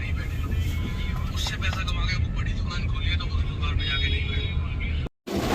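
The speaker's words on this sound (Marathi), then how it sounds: "हे बघा फुल ट्रॅफिक." Road traffic noise in a heavy jam on the Kalyan to Pune route, a steady near rumble of engines with passing vehicles and a brief dropout near the end, while people talk over it.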